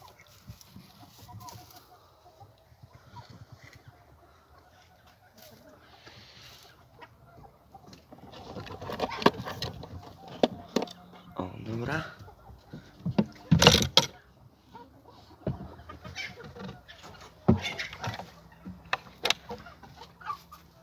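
A hen clucks in a backyard poultry run, with brief bursts of calling rising over quieter rustling and movement, near and moderately loud in irregular clusters.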